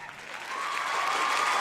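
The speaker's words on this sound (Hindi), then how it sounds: "तालियां" Dense, steady applause from a crowd fills the air, swelling slightly and holding at an even, loud level for under two seconds with no voices.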